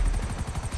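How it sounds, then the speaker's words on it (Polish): A helicopter's rotor beats steadily and loudly in GTA Online, flying over a snowy area, with a rhythmic low chop that continues throughout without any talk. "gdy jesteśmy śmigłowcem i przecież używamy takiej mocnej siły wiatru"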